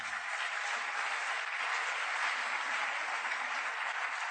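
A church congregation applauds with steady, continuous clapping that fills the room throughout.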